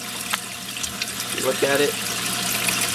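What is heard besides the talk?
Reef Octopus protein skimmer splashing water in a reef tank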